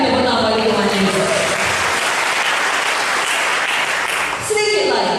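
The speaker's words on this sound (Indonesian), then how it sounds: "Berikan tepuk tangan bagi Tuhan Yesus." A church congregation breaks into loud, sustained applause that fills the room for about four seconds, dips briefly, then swells again near the end, with voices mixed into the clapping.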